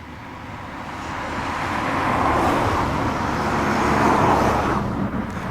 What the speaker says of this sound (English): You can hear the cars behind us.